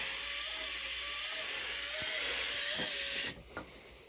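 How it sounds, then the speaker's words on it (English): A high, whining hum from a remote-control helicopter servo motorising a window blind runs steadily with slight pitch wavers, then cuts off abruptly near the end, leaving a faint click. "That was done with a servo out of a remote control helicopter"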